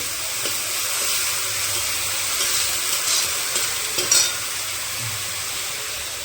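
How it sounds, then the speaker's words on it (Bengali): Ground onion paste frying for fish curry, a steady hissing sizzle with soft scraping of stirring and a few brief clatters near the middle. "বেটে রাখা পেঁয়াজগুলো দিয়ে দিয়েছি, ভালো করে নাড়িয়ে নেব।"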